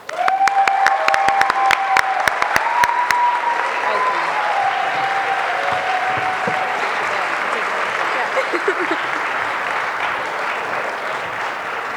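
Audience applause at a queer youth leadership awards ceremony, loud and dense, with sharp individual claps standing out early before settling into a sustained crowd roar of clapping and some cheering throughout.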